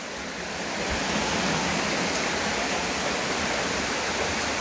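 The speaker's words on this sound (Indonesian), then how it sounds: "Dan ini dia sumber mata airnya, ada satu pancuran." Spring water pouring steadily from a single spout at a spring used for bathing and rituals, a loud, continuous close splashing rush with no talk.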